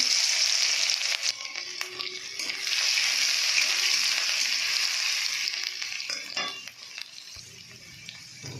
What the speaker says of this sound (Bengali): তো একটু জিরে দিয়ে দিলাম, আমি একটা কাবলি চানা বানাবো। একটু আদা রসুন দিয়ে দিলাম।